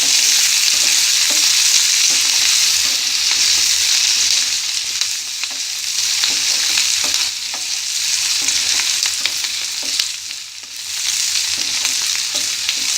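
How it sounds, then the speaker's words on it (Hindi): Chopped capsicum and green chilies sizzle steadily in hot oil in a pan for upma, with occasional scraping taps of a spoon stirring them, a constant close hiss and no talking. "शिमला मिर्च डालेंगे, हरी मिर्च डालेंगे। इसको चलाते हैं।"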